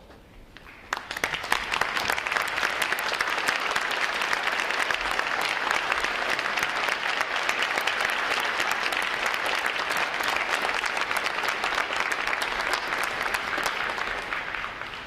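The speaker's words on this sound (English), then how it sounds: "Would all our veterans please stand so we can give you a round of applause." A large crowd applauds veterans standing at a Navy recruit training graduation ceremony, dense, sustained clapping that swells in after a second and holds evenly through to the end.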